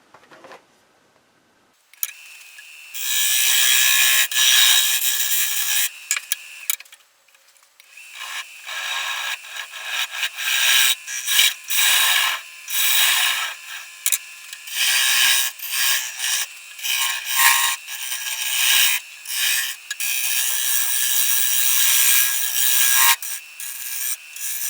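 A woodturning tool cuts a recess into the base of a natural-edge English walnut bowl on the lathe, giving a loud, sustained scraping hiss in long bursts with brief pauses as the tool is eased in and out.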